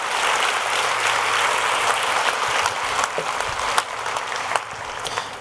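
A church congregation at a Sunday service claps together in dense, sustained applause that fills the room, with a few sharper individual claps standing out as it thins toward the end.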